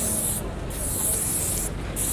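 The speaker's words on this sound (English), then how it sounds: "That is spray chalk." Spray chalk hisses from a can onto a wall at a protest, three close bursts of hissing with short pauses between them, with no talk.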